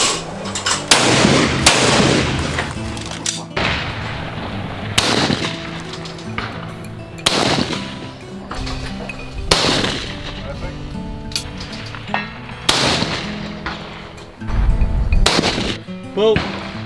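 A SAKO S20 rifle fires at an outdoor shooting range, several loud, sharp reports spaced a few seconds apart with brief echoing tails, and people talk between shots.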